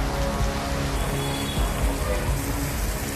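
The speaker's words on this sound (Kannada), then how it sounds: "ಇನ್ನು ತಮಿಳುನಾಡಿನಲ್ಲಿ ಮತ್ತೆ ಮಳೆ ಅಬ್ಬರಿಸಿ ಬೊಬ್ಬರಿತಾ ಇದೆ." Heavy rain falling during flooding in Tamil Nadu, a dense steady wash of downpour that stays loud and continuous throughout with no break.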